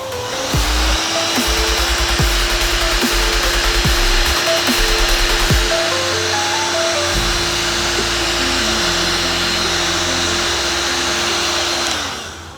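Heat gun blowing hot air onto a dented panel of a 100cc Formula Super A kart's bodywork, a loud steady whooshing whine held for about twelve seconds, close and alone.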